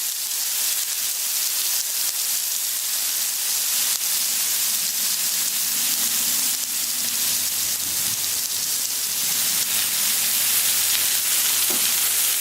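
Onions sizzling on a Camp Chef flat top griddle, a steady bright frying hiss that continues evenly with no one talking.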